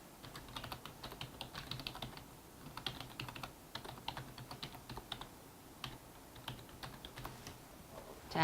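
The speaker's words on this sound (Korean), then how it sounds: "상호명을 입력해 보겠습니다" Rapid, close computer keyboard typing while a business name is entered into an online form, a quiet string of irregular clicks with brief pauses between bursts.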